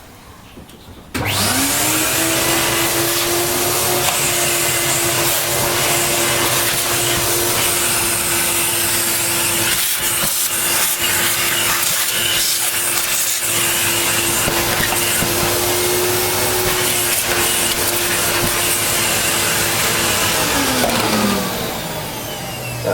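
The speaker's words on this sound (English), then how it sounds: "I'm going to quickly vacuum this out." A vacuum cleaner spins up abruptly and runs as a loud, close, steady whine and roar while vacuuming out a Vax Power 7 Pet, then winds down near the end.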